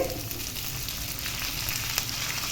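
Curry leaves crackle and sizzle in hot tempering oil, a close, steady frying hiss with a few sharper pops, with no talking.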